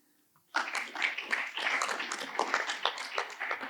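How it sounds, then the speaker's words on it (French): An audience at a conference on innovative data collection techniques bursts into applause after a talk, a dense steady patter of many hands clapping at moderate distance. "On peut encore applaudir pour elle"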